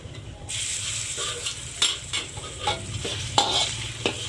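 Ginger goes into a pan of cumin seeds sputtering in hot oil for a bittermelon and yoghurt dish, giving a loud close sizzle with repeated stirring scrapes and clinks.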